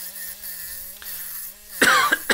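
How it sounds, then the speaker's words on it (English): A few sharp coughs burst out near the end, following a stretch of steady tonal background hum. "I'm still coughing."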